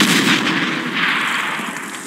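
A sustained, loud rumbling blast from a field gun firing in the Company of Heroes strategy game, with a broad roar that slowly decays across the whole moment and no speech over it.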